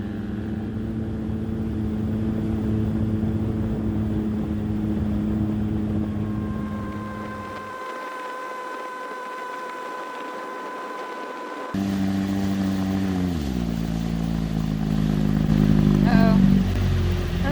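A boat motor runs steadily as the craft heads downriver, a sustained engine drone that drops off as the throttle is eased back, then rises again with a shifting pitch and louder surge near the end.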